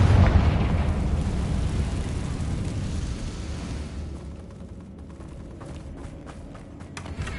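A fire-spell explosion in the Hogwarts Legacy game: a loud, broad rumbling blast that swells at the start and slowly fades into a lingering roar with faint crackles.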